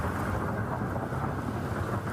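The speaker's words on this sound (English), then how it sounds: "that's thunder in Mill Creek. You can hear it rumbling in the distance in this viewer video" Distant thunder in Mill Creek during a severe thunderstorm near Seattle, a low continuous rumble with rain-like hiss, steady and without voices.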